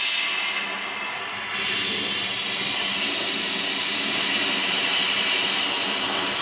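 Gas torch roaring steadily as it heats metal resting on a fire brick for brass brazing, a constant broadband hiss that swells louder after a quieter opening second and a half.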